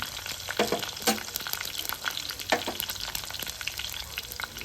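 Crushed garlic and dried red chillies fry in oil for a raw mango pickle, giving a busy, crackling sizzle with frequent sharp pops and stirring scrapes, close and continuous, with no talk.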